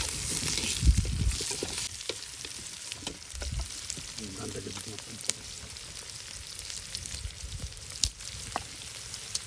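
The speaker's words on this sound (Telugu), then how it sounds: "వీటన్నిటిని పచ్చివాసన పోయేంత వరకు బాగా వేయించుకోవాలి." Green chillies and chilli powder frying in a pan for a Rayalaseema fish curry, giving a continuous close sizzle with occasional stirring scrapes and a few louder pops, no voices.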